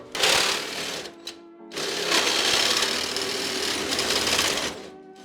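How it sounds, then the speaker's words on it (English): A reciprocating saw cuts through the radiator support of a Toyota-swapped Ram 50, a loud, close, rapid buzzing rasp in two bursts with a short pause between them. "So I am now gonna cut this rad support because I don't feel like working around it"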